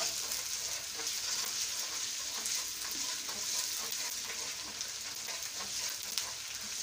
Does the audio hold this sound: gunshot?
no